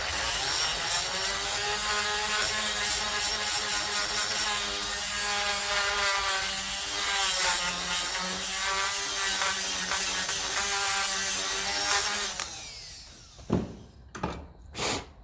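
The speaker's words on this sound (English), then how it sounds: "Just kind of a standard kind of a grinding kind of a head on it." A Dremel rotary tool with a standard grinding head cleans a battery cable terminal on a 1954 Ferguson TE20 diesel tractor, a loud steady whine for about twelve seconds before it cuts out, followed by a few short clicks and knocks.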